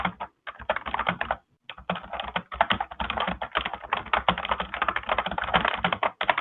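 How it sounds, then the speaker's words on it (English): Rapid, continuous clatter of keys on a computer keyboard, close and fairly loud, with brief pauses between bursts of typing. "Here is typing."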